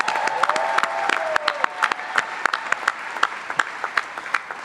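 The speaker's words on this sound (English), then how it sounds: "Let's give a round of applause." An audience at a youth storytelling showcase breaks into applause, a dense wash of clapping under a sustained tone that thins toward sparse, individual claps near the end.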